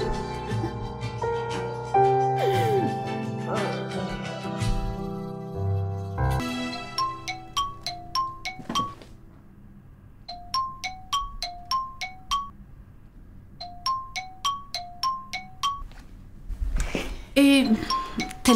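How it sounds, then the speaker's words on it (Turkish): A phone rings in a repeating melodic ringtone pattern of short tonal bursts, following music and talk, in an indoor scene from a Turkish drama series. "Telefonu çalıyor."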